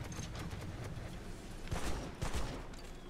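A ship's cannon fires in the VR naval battle game Battlewake, booming a few times among dense, rumbling battle noise and muffled blasts, with no talking.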